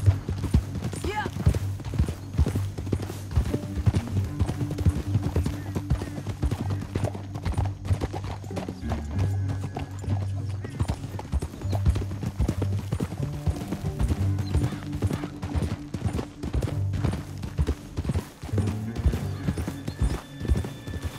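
Horse hooves clip-clop in a steady galloping rhythm throughout Red Dead Redemption 2 gameplay, with a horse whinnying at times and game music and voices layered underneath.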